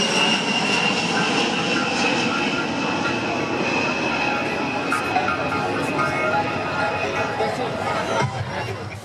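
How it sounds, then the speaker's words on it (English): A B-52 Stratofortress, the eight-engine bomber, flies at the Singapore Airshow with a loud, continuous jet roar that stays steady throughout, while an announcer talks over it and a crowd murmurs in the background. "B-52 Stratofortress was an aircraft with 8 engines and fly worldwide using air-to-air refueling capability."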